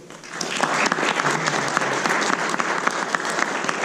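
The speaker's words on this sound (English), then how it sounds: "let's give them a round of applause for all that they do" Audience at a community issues forum on economic development breaks into sustained, fairly loud applause that swells in and holds steady for several seconds.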